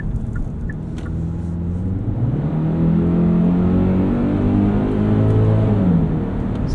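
A 2023 Kia Sportage X-Pro Prestige in sport mode accelerates with a steady, loud engine drone that rises in pitch, layered with a synthetic engine tone so it seems like two engines running at once, with no talking.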